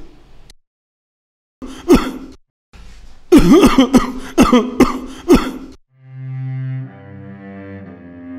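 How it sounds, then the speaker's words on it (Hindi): A person with a fever coughs in a harsh burst of several rapid coughs with gasping breaths between them, close up, followed by a low hum. "देखिए आप कितनी खांसी कर रहे हैं आप"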